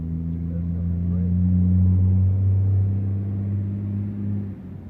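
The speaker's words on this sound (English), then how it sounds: "There's also a big old semi going by." Big semi truck driving past outdoors near boats and cars, a deep droning engine rumble that swells to a peak midway then fades away, fairly loud and without speech.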